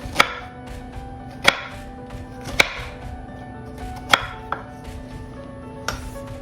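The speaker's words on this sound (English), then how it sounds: "I'm gonna go 3/4 of the way and I'm gonna slice straight down" Knife chopping down through food onto a cutting board while making a homemade Big Mac with fries, six sharp distinct thuds spaced unevenly about a second apart, close and clear over a faint background hum.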